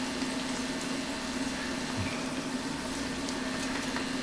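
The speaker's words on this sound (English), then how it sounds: "Let's go ahead and saute these all together." Cioppino ingredients sauteing in a pan, with a steady, even hiss and bubbling murmur that stays constant throughout and has no distinct stirring strokes.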